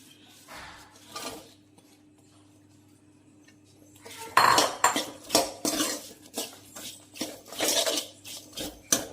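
A knife slices through an unpeeled green apple as if cutting mango for pickle: a quiet stretch of faint scraping, then a rapid run of close, crisp cutting strokes and clicks against a board, with no talking.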